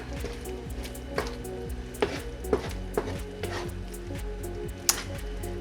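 Bolognese sauce with Italian dried herbs stirred in a pan, with a spoon scraping and clinking against the pan in irregular knocks over a soft, steady background simmer.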